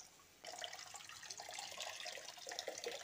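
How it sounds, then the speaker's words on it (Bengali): Water pours into a pan of spinach and potato curry in a quiet, close, continuous splash that starts abruptly after a short silence. "এবার এই পর্যায়ে পরিমাণ মতো জল দিয়ে দিচ্ছি।"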